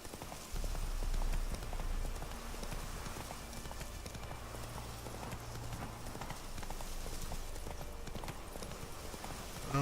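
Horse hooves clip-clop steadily at a trot in The Witcher video game, a regular rhythmic clatter heard close and moderately loud over faint ambient game sound.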